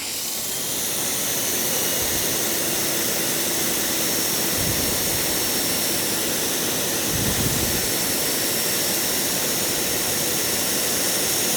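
VEVOR 2700psi 1.8gpm pressure washer running under test, a loud, constant jet-like roar and hiss with a steady hum beneath, close and unbroken.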